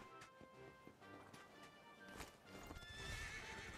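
Hooves clip-clop steadily as a horse moves in Dragon Quest XI, with a whinny rising near the end over a busy game soundscape.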